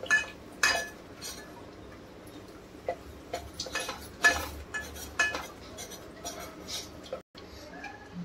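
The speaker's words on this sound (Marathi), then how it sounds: "2 मिनिटासाठी परतून घेऊया चांगलं, त्याचा कच्चापणा निघून जाणार" Gram flour being roasted and stirred in a pan for a Sindhi kadhi, with intermittent spoon-on-metal scrapes and clinks over quiet kitchen ambience and a few soft voice sounds.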